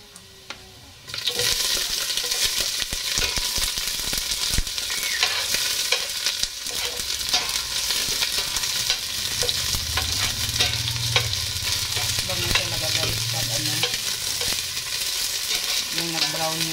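Onions and garlic sizzle loudly in a hot pan while being stirred, the frying starting abruptly after a quiet moment and continuing steadily with scraping stir sounds throughout.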